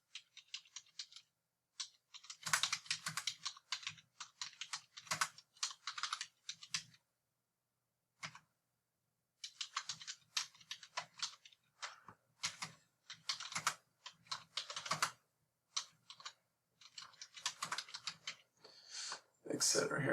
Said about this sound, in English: you're ready to start typing your paper